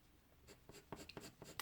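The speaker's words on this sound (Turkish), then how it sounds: "orayı direkt 5B kalemiyle, daha koyu bir renk çünkü, gölgelendirmeye başlayabilirim" Graphite from a soft, dark 5B pencil shading across paper, a series of quiet, close scratchy strokes in uneven rhythm with no voices.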